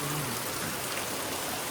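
Heavy Konkan monsoon rain falls in a steady, dense patter, constant and fairly soft.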